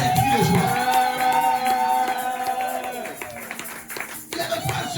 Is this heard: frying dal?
no